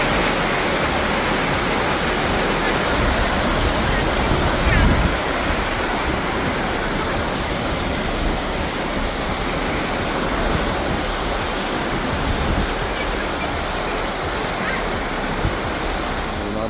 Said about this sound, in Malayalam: അതിനൊരു വെള്ളച്ചാട്ടം